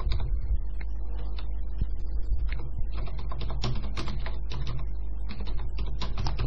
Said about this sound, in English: So I'm going to type a couple in for a little example.